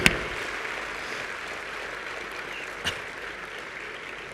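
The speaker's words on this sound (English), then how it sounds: "join me in welcoming Father and giving him the loudest applause in this campus we've ever given." Audience at a college convocation applauding in welcome, a steady, fairly soft wash of clapping from a large crowd, with a sharp knock at the start and another near the end.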